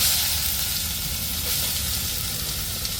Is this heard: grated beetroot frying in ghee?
yes